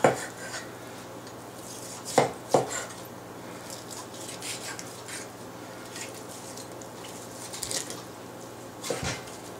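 A knife trims fat off a ham in a pan, producing scattered close clinks and scrapes against metal over a quiet kitchen background, with a few louder knocks and no talk.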